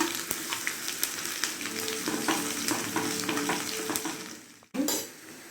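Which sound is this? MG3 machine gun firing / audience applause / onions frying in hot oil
onions frying in hot oil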